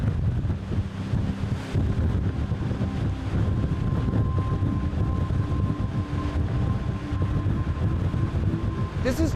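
Hurricane-force wind roars at the top of a tower on Mount Washington in winter, a loud, constant, rumbling buffet with gusty swells that batter the microphone throughout.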